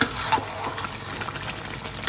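Chicken fries in a pan alongside potatoes, a constant close sizzle broken by scraping stirring strokes and light clatter, with no talking.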